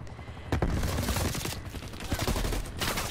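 Assault rifle fire in an online shooter game, rapid bursts of gunshots cracking loudly over a busy battle backdrop, with sharp repeated reports and brief pauses between volleys.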